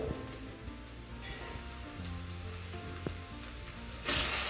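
Sabudana khichdi with crushed peanut powder fries in ghee with a soft, steady crackling sizzle and faint spoon scrapes. Near the end a brief burst of louder hiss rises, with no talking.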